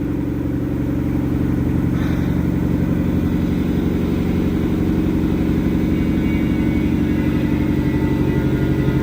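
A steady, loud mechanical drone and rumble of an LG washing machine spinning at high speed, constant throughout with a brief clink near the start.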